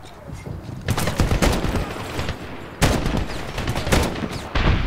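Bursts of gunfire from a weapon in the video game Medal of Honor 2010, several loud rapid volleys separated by short pauses, with a background of battle noise.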